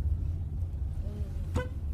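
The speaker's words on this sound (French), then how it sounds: "petit coup de klaxon quand même" A car horn gives one short, light toot partway through, over a low idling engine rumble and faint road noise.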